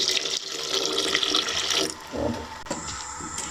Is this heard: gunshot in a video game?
no